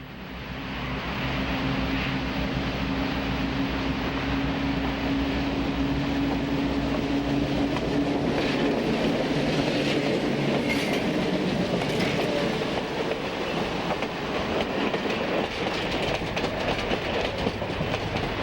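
A B&O passenger train rolls past loudly and continuously at West Detroit Tower, its wheels rumbling and clattering on the rails for the whole stretch, with no voices.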